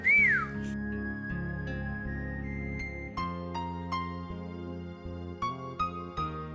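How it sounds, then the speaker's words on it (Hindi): A person whistles a sustained tune alone in a Hindi drama scene, clear and close, the melody holding long notes before breaking into shorter rising phrases. "अरे गाना थोड़ी सीटी बजानी है।"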